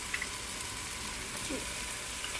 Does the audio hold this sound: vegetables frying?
yes